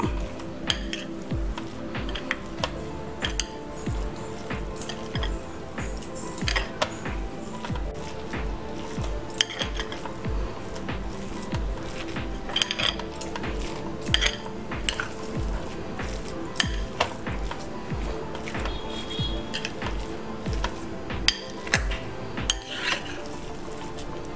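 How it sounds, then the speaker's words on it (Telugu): Masala stuffing with onions being mixed in a bowl for potato-stuffed bell peppers, with steady close scraping, clinking and stirring of a spoon against the bowl and soft squishy mixing throughout, no voices. "ఇప్పుడు ఇదంతా మసాలాని మంచిగా కలుపుకోవాలి."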